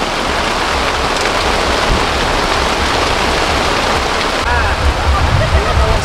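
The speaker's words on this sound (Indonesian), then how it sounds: "di saat hujan deras seperti sekarang ini" Heavy rain drums steadily on a Borneo 6 tent, a dense, loud, unbroken hiss of water close overhead that grows slightly rougher near the end.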